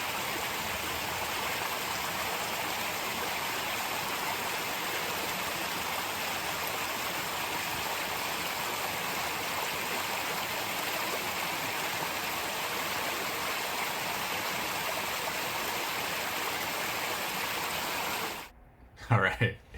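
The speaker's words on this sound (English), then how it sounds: "Should we watch some waterfall while that loads?" A waterfall plays from a video on a computer, giving a steady, even rush of falling water that lasts almost twenty seconds before cutting off abruptly, followed by a couple of brief faint noises.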